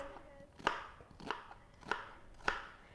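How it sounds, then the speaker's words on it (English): A knife chopping through an onion on a board in a home kitchen, four crisp, evenly spaced cuts heard close and clear with no talking. "It's the quickest and easiest way you can chop onion"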